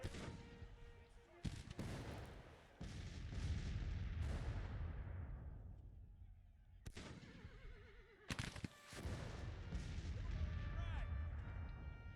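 Soldiers' rifle fire crackles in loud bursts during a Civil War battle in Grand Tactician The Civil War, with repeated shots and rumbling volleys, a brief lull, then renewed shooting under shouted voices and faint horse whinnies.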